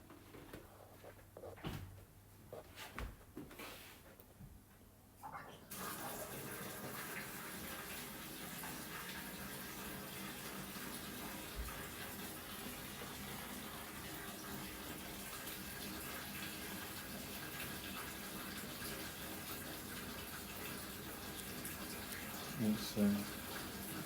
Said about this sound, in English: Maybe it's the hot water. Let's run the hot water.